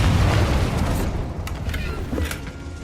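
A Confringo blasting spell in Hogwarts Legacy rumbles as a deep explosion that fades, with small crackling bursts trailing after it.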